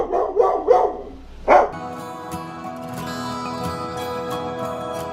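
Jasper the dog gives a few close, quick barks, then goes quiet as steady tonal background sound takes over.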